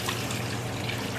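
Water, 600 milliliters, pours into a mixing bowl for Italian bread dough, a steady close trickling splash lasting the whole moment, alone without talk.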